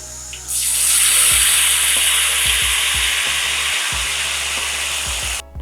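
Tofu coated in batter fries in hot oil in a pan with a steady, loud sizzle and hiss, broken by a few brief low knocks of a spatula against the pan; no one speaks.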